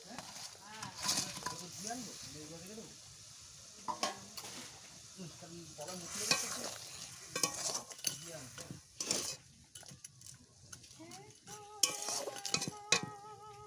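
Fried bhola fish being added to a mustard curry masala in a pan, with scattered clinks of a spoon against the pan, stirring, and soft intermittent sizzling.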